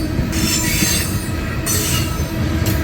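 A CSX freight train hauling empty coal hoppers rolls past close by, loud and continuous, with shrill wheel squeal rising and fading over a heavy rumble of rail cars.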